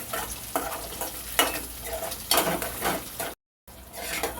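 Egg for egg rice frying in a pan while a spatula stirs it, a bright sizzle with rhythmic scraping strokes, up close, then a brief gap of silence near the end.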